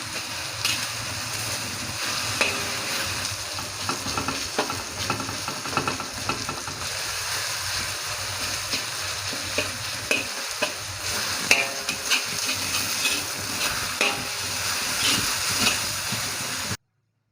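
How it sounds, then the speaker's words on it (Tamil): Tomatoes sautéing in a pan for a Tamil-style tokku, a steady sizzle and frying crackle with repeated stirring scrapes throughout, close and fairly loud, no talking. "தக்காளி சேர்த்து நல்லா வதக்கிக்கணும்."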